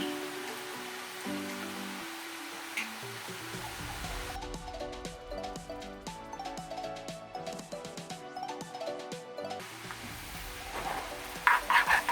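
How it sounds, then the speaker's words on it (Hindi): Chopped small onions frying in butter in a handi pot for Punjabi sarson ka saag, a soft continuous sizzle with stirring, joined midway by a busier crackling patch and a few sharp clatters near the end. "तो प्याज का मैं भंगार दूंगी इसमें"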